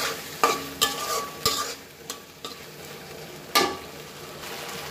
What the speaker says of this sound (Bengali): মশলা দিয়ে আবার 2 মিনিট কষাবো।